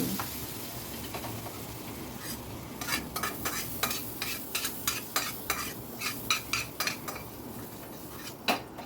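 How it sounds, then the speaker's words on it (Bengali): Ghee tempering for a simple home lunch tipped into a pot of dal, giving a steady soft sizzle under a run of sharp metallic spoon clicks and stirring taps that grow more frequent toward the end. "এইবারে এই সম্বারটা আমি ডালের ভেতর দিয়ে দিচ্ছি"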